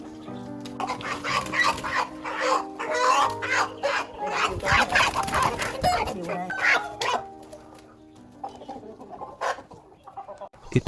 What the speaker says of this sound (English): The trader uses a hook to catch the best ones.